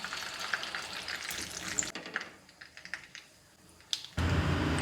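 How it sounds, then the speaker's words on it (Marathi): Mustard and cumin seeds sputter in hot oil for a Marathi-style tadka, making fast, crackling pops and sizzle close by. A short quieter lull comes before a sudden, louder, steady hiss of frying. "आता मोहरीचा तडका होत आला आहे, मोहरी चांगली उडते"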